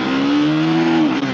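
A motorcycle on a highway around Angul, Odisha, pulls hard during a top-speed run, its steady engine drone climbing slightly in pitch, loud and close, with no talking.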